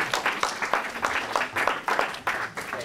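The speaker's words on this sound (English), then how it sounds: "Can you give Amy a big round of applause?" A small audience applauds at a career-advice talk for young researchers: brief, fairly near clapping in rhythmic bursts, with no one talking over it.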